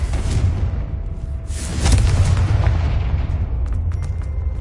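Fire spells from Hogwarts Legacy, the Confringo curse, burst in loud booming explosions over a steady low rumble, with a stronger blast near the middle and faint crackles trailing after.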